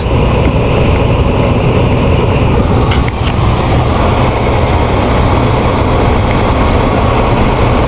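A train rolls past at a small-town Christmas event in Taylorville, a loud, steady rumble filling the whole stretch with a brief clatter partway through.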